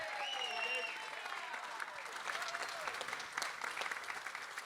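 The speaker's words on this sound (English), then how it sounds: "I would like everyone to give Dave a round of applause for the wonderful job he's doing tonight as MC." Wedding guests at an evening reception applaud the MC, a dense, fairly soft patter of many hands clapping throughout, with faint voices mixed in.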